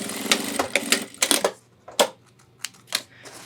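A sewing machine stitches backpack webbing in a few short, close, clattering bursts over a faint hum, running in quick stops and starts.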